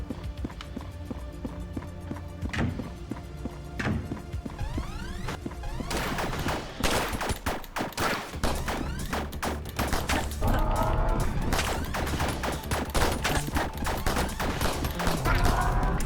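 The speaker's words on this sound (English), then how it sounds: "Shotgun!" Shotgun and other weapons fire in the action game ANNO: Mutationem, with bursts of sharp, rapid shots and clattering impacts over game music, growing denser and louder toward the end.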